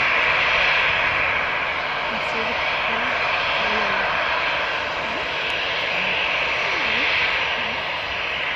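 Airbus A320 jet on the runway at Newcastle Airport, a continuous loud engine roar with a steady broadband hiss, heard from nearby with people talking over it.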